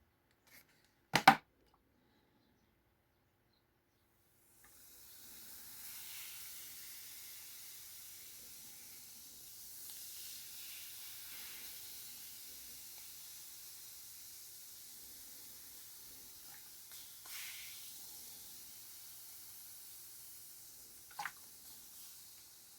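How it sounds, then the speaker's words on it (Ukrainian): Baking soda slaked with vinegar for shortbread tart shells, fizzing with a soft, steady hiss that rises after a sharp click and runs on for several seconds, quiet and close with a few faint clinks. "Десь чайна ложечка виходить і гашу уксусом."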